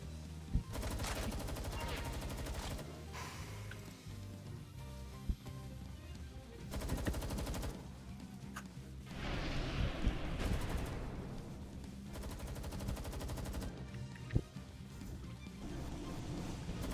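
A Gatling machine gun fires in the Palworld video game, with loud bursts of rapid gunfire that start and stop over and over, mixed with other game effects and occasional talk.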